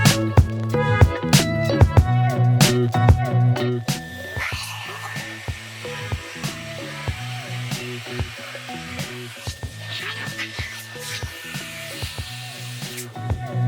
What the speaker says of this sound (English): inflate the air chamber